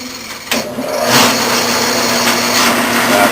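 A tapping machine runs steadily as it reverses a tap back out of a drilled hole, a continuous mechanical whirr with a faint tonal hum, starting up after a brief quiet moment and holding level and close throughout.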